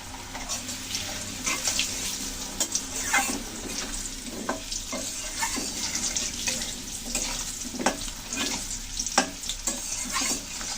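Cut potatoes go into oil with cumin seeds fried for a Bengali curry, giving a steady moderate sizzle broken by clattering stirring strokes and scraping from the pan.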